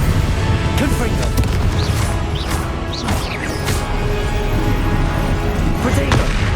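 In Hogwarts Legacy, the Confringo blast spell sets off deep explosive booms and crashes amid dense, loud game combat noise. A spoken voice is heard alongside the blasts.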